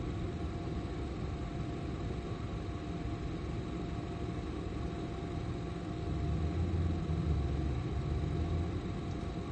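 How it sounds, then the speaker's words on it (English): A car engine idles near an intersection, a steady low rumble with a constant hum that swells slightly louder toward the end, with no voices. "Do you hear the engine sound?"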